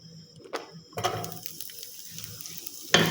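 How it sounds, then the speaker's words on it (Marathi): Chopped onion sautéing in a pan of oil, butter and ghee, a soft sizzle broken by a few sharp clatters of tossing and stirring, with a louder scrape near the end. "परतून घ्यायचं आहे, टॉस करून घ्यायचं आहे फक्त"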